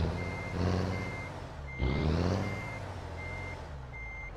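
Truck engine heard from inside the cab of a Volkswagen Constellation in Euro Truck Simulator 2: a steady low rumble that swells briefly midway, with a high electronic reversing beep repeating at regular intervals over it.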